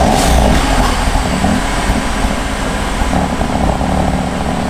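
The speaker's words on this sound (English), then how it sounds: "turn the car on, lower it a little bit, turn the car on, and see if we have any exhaust leaks" BMW F80 M3 engine on its first startup after an equal length midpipe install, running at a steady loud idle with a dense low rumble throughout and no talk.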